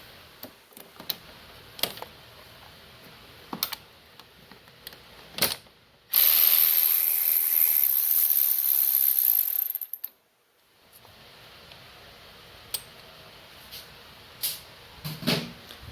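Ratchet spinning out a small 8mm bolt on a 2018 Kawasaki Ninja 400 body panel: a loud, steady four-second burst of rapid clicking up close, with scattered light taps and handling noises before and after.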